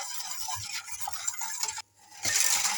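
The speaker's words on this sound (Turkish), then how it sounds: "İyice karıştırıyorum." Profiterole cream thickened with corn starch is stirred in a pot on the stove, giving a busy scraping and clinking of the utensil against the pot that breaks off briefly and then resumes louder.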